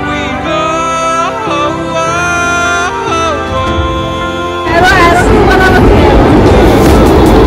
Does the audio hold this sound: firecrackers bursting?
no